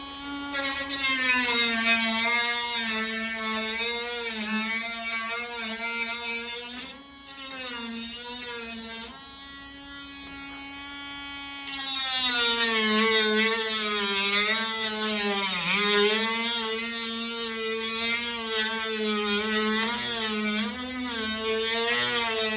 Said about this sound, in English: I'm gonna take this little Dremel thing, see if I can cut some new screwdriver slots in them.